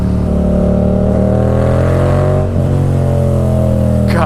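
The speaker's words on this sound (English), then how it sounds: "God, that exhaust is brutal. That is like the deepest note I've ever heard on a bike like this." A 2016 Husqvarna FC dirt bike with a deep, brutal exhaust note revving hard, steady and loud up close with a brief dip in pitch partway through.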